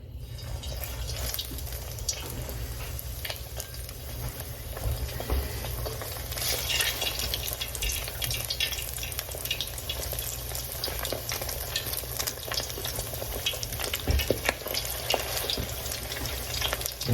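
Shrimp toast frying in oil in a pan on the stove, a steady crackling sizzle with scattered pops and spits, close and continuous.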